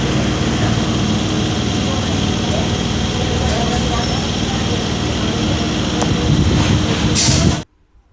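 A Bardhaman chord local train pulls out of Nabagram station, a loud steady rumble of wheels and carriage noise running throughout with a few brief high squeals and clanks, cutting off abruptly near the end.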